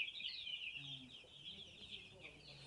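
A flock of about 400 chickens on a poultry farm clucks and chirps in a steady, fairly faint chorus, with a few lower calls breaking through.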